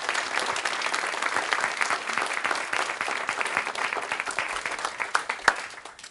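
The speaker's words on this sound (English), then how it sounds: "let's give a round of applause for the panel" Sustained audience applause for a conference panel, dense and even clapping from a seated crowd that tapers off slightly toward the end.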